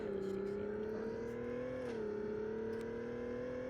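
Rolls Royce engine sound from a Roblox driving game, a steady synthetic drone that holds a level pitch, dips slightly midway, then settles, running continuously with no talk.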